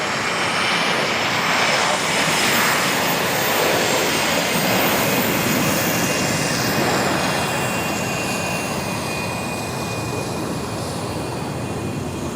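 A private jet's engines roar steadily and loudly at Van Nuys Airport during a landing or takeoff, a continuous broadband rush with a faint high whine that holds for the whole stretch with no talk.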